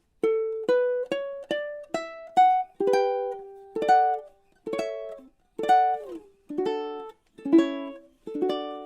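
Ukulele playing measures 15 to 18 of Minuet in G, a steady run of about fifteen plucked notes and chords with some notes doubled, each ringing briefly before the next, clear and close with no voices.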